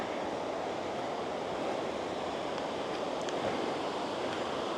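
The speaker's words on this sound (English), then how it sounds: "There's the creek." Pine Creek flows through pine forest along a Montana trail, a steady, unbroken wash of rushing water that fills the whole stretch with no voices.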